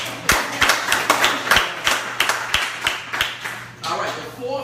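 A small audience claps in a loose, scattered rhythm of a dozen or so sharp individual claps rather than a full roar, close and fairly loud, with someone speaking at the end.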